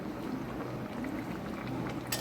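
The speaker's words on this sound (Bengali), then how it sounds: "চিংড়ি মাছগুলো ফুটছে দেখুন।" Prawn and potato curry bubbling steadily in a pot, a soft continuous boil with faint liquid pops, alone without talk.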